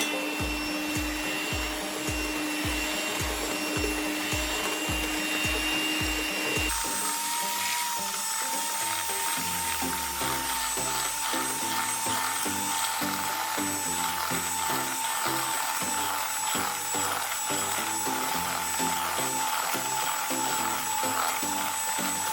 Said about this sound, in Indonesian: Selanjutnya kita mixer adonan sampai dia putih pucat